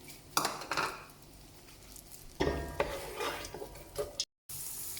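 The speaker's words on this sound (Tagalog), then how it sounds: "Arabic oil ang gagamitin ko na panggisa. Ayan. Nalagay ko na yung onion." Onion sautéing in Arabic oil for beef kabsa, a steady sizzle broken by bursts of stirring as a utensil scrapes and clanks against the pan, close and with no talk.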